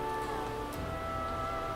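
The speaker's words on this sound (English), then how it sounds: "oh no, it's raining." Steady rain falls in the survival game The Flame in the Flood, a continuous hiss of drops with faint rustling, even and unbroken throughout, with no voices over it.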